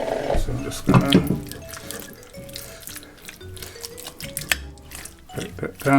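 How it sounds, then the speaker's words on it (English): Tap water runs and splashes into a kitchen bowl to rinse out chicken marinade, with clatter and sloshing under a person talking. "with our water, just going to rinse out this bowl, get all the marinade and everything out."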